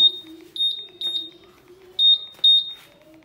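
Shrill electronic beeps from a motorcycle anti-theft alarm sound in short bursts, some doubled, with a low steady hum underneath and a faint voice in the background.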